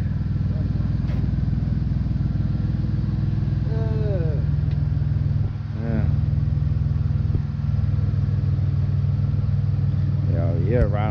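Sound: Monte Carlo SS cars riding back to back

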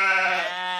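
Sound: sheep bleating in Curious George farm app game

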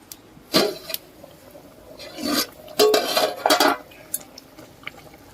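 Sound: stirring chicken curry in a pot

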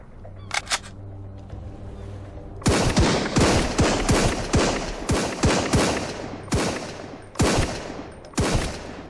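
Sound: gunfire in Sunkenland video game

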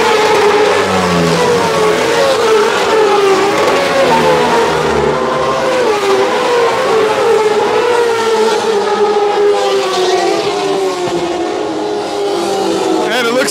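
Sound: racing motorcycles on first lap of Loudon Classic

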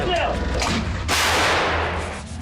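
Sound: self-propelled howitzer firing

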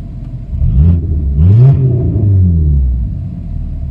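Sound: car engine running and revving

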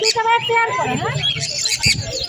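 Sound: green-cheeked conure chirping at a bird market

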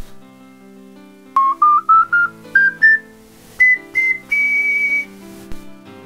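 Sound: homemade clay ocarina playing a scale

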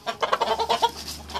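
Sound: fighting rooster clucking

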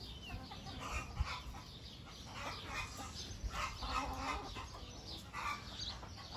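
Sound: hen clucking, cackling as if laying an egg

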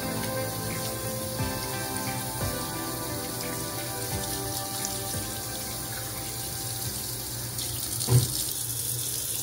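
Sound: water running from a faucet while rinsing soapy hands

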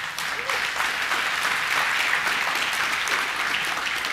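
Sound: audience applause

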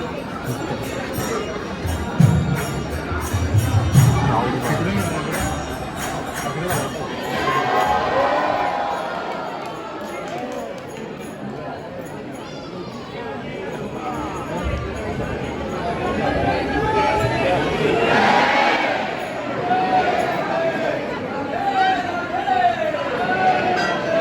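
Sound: crowd in a large park

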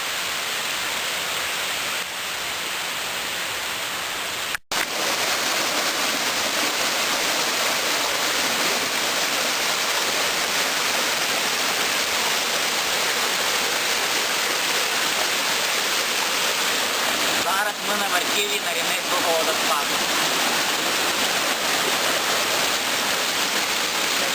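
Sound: waterfall rushing water

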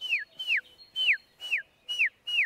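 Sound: voice imitating drongo (kotwal) alarm call

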